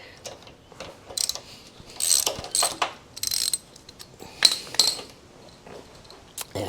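A ratchet clicks in short bursts while loosening a 10mm bolt on the mechanical fuel pump of a Honda VL250 bobber, with close, sharp metallic ticks separated by brief pauses and small tool clanks.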